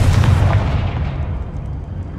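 A Confringo blasting spell from Hogwarts Legacy goes off as a loud, close burst, its booming explosion ringing on and fading over about two seconds with a dense low rumble.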